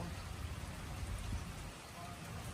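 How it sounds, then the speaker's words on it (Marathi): Continuous light rain falls steadily outdoors, a soft even hiss of drops on surfaces with a faint low rumble underneath, no voices. "पाऊस कंटिन्यू येतोय जास्त मोठा नाही पण कंटिन्यू चालू आहे"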